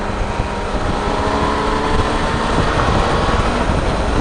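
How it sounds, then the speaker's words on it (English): A high-revving motorcycle engine in fifth gear drones steadily under heavy rushing wind, recorded through a helmet-mounted Sena Prism, the engine tone partly buried by the wind. "See if we pick up the engine noise at a higher RPM."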